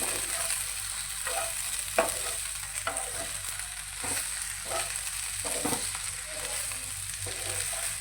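Okra sabzi seasoned with salt and chili stir-frying in a pan, a steady close sizzle with occasional scraping stir strokes, no voices.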